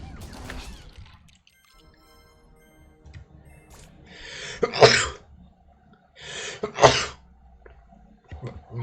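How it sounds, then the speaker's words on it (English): Two loud, close sneezes a couple of seconds apart, each a sharp breathy burst, set over faint game sounds and low background noise. "More sneezing. More sneezing."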